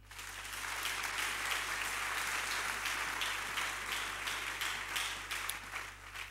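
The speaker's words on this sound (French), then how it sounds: "Acclame le Seigneur." A church congregation applauds the Lord with sustained, dense clapping that holds steady for several seconds before easing off slightly.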